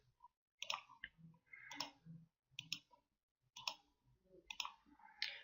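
A computer mouse clicks while drawing in CAD software: several crisp, close clicks come in irregular bursts with short pauses between them.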